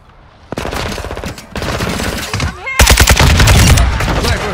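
RPK light machine gun firing in the video game Call of Duty: Warzone 2.0, loud sustained automatic bursts that rattle on without pause and grow heavier toward the end, with faint game chatter beneath.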